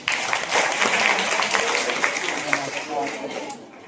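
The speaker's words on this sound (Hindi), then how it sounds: "इस बच्ची के नाम से ताली बजाइए" A crowd applauds a young girl at a quiz event on knowing India, steady dense clapping that fades slightly toward the end, with some voices mixed in.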